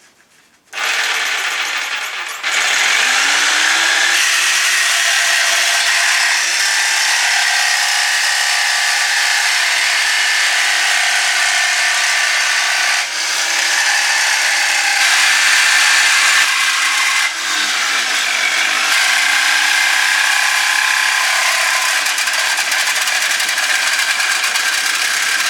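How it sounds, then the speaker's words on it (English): A power tool whirs loud and steady at high speed through a long first cut on a Suzuki Bandit garage project, its pitch sagging briefly a few times as it bites in and then recovering. "Right, here's the first cut, so that'll be at least that wide apart"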